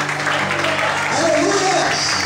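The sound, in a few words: congregation applauding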